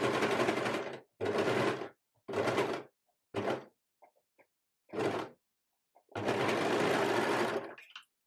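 An overlocker sewing along a fabric edge runs in several bursts of steady whirring stitching, separated by short pauses with small clicks, ending in a longer run, close and loud.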